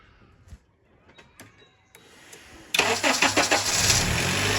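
After a few quiet clicks and taps, a Honda Accord engine cranks and roars to life, then keeps running loudly at a steady idle.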